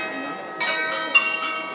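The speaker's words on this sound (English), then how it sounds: "The church bells are ringing." Church bells ring out at a Munich Christmas market, a sustained, resonant metallic tone with several fresh strikes swelling over a steady ringing wash, under faint crowd murmur.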